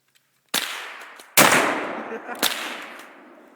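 Three loud, close blasts from a Benelli 12 gauge magnum shotgun, each a sharp crack followed by a ringing decay, spaced about a second apart outdoors.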